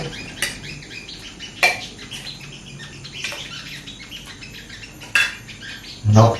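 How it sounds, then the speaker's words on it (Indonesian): Pak choy is stir-fried in a pan, with a spatula clanking sharply against the metal every second or so, and birds chirping faintly in the background. "Tumis kapcoy."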